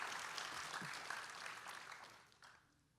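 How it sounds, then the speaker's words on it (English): Guests at a Marine Corps birthday ball give a round of applause, a dense, moderately quiet patter of many hands that holds steady and then tapers off toward the end. "And a big round of applause."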